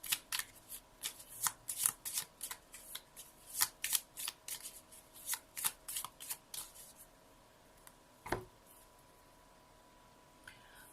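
Oracle cards are shuffled by hand for a reading, a close, quiet run of rhythmic riffling slaps that slows and stops, then one last soft snap.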